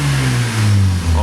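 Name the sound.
Mazda RX7 engine revving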